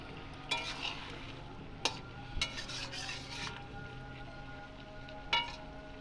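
Small fish going into a pan in a home Bengali kitchen, giving a steady soft sizzle of frying with a few sharp clinks and scrapes of a utensil against the pan.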